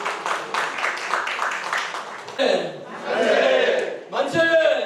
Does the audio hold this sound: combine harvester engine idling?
no